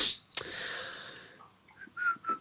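A person attempts to whistle, producing breathy, airy hisses and a couple of faint, thin whistle tones, with a sharp breath near the start; quiet and close, with no speech.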